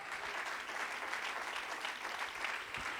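Applause in a church service, a soft continuous patter of clapping that holds at an even level throughout, with no talk over it.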